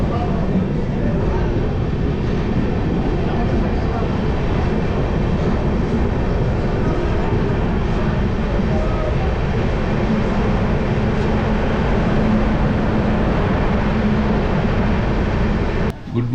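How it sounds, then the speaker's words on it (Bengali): The Amrit Bharat Express (16597, Howrah to New Jalpaiguri) running after leaving Bardhaman: a loud, continuous rumble and rattle of wheels on track from inside the train, steady for the whole stretch with no pauses. "এই বর্ধমান থেকে ছেড়ে দিল আমাদের ট্রেন।"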